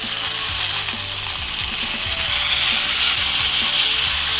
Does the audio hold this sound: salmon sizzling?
yes